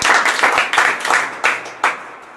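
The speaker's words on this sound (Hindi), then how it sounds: "सुमित के लिए जोरदार तालियां" Brief clapping greets Sumit, a child, in a village setting: a handful of hands in short uneven bursts, fairly close, tapering off into a few isolated claps by the end.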